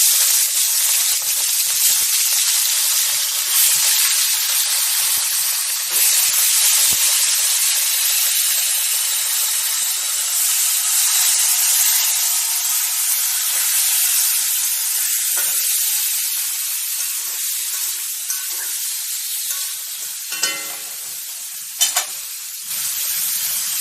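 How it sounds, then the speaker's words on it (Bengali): Chicken pieces frying in oil in a pan for a Bengali chicken curry, a loud continuous sizzle and spitting hiss that persists throughout, with occasional stirring scrapes and clinks near the end. "ওই একই তেলে আমি চিকেনটা একটু ভেজে নেব।"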